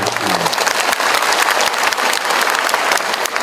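Loud, dense applause from a crowd at a 40th-anniversary thanksgiving celebration for an orphan boarding school, Pesantren Assyafiy, with Anies Baswedan attending; the clapping is continuous and close, with no speech over it.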